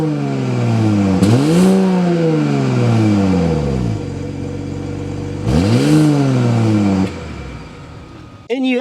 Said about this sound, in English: start up so you can hear that exhaust note